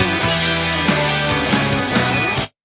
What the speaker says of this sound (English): I'll do an orchestral intro for you.